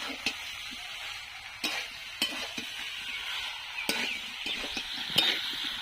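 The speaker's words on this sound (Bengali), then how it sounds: "তো আমার ইঁচড়টাকে কষানো হয়ে এসেছে।" Raw jackfruit sautéing in a pan, a soft continuous sizzle broken by sharp spatula clacks and scrapes against the metal at irregular intervals, close and without talk.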